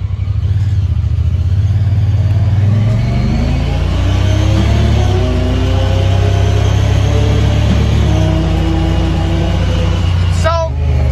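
Honda Pioneer 1000-6 UTV engine accelerating loudly and steadily, with pitch rising over several seconds through gear shifts as it speeds up, close by with a brief clatter near the end.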